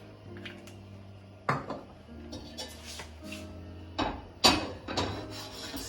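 A metal pot knocked and shifted on a stovetop burner during cooking, several sharp clanks and scrapes over a low steady hum, close and fairly quiet.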